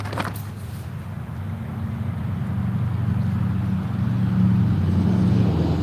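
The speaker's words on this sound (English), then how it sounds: "Big truck, big truck." A big truck rolls by outdoors, its low engine rumble swelling gradually from a faint drone to a louder, steady roar, heard alone without talk.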